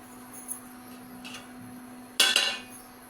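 Two chocolate pancakes are flipped in a pan on an induction cooktop, with a soft scrape and then a sharp metallic clink and clatter of the spatula against the pan over a quiet background.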